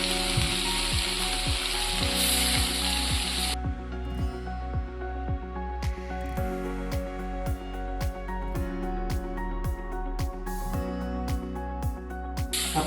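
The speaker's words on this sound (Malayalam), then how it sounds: "കുറച്ച് ഉലുവപ്പൊടി, കുറച്ച് എണ്ണ ഇട്ട് അരി പിടിക്കാനിട്ട്" Rice frying in oil with fenugreek powder for a cassava and fish dish, a loud steady sizzle running throughout with a string of regular close clicks from a spoon or pan.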